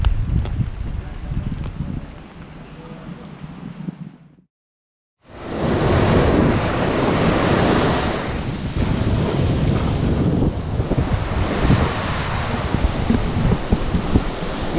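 Pacific Ocean surf rolls and crashes on a Maui, Hawaii shore, loud and continuous with heavy wind buffeting the microphone; a brief silent gap interrupts before the roaring waves resume.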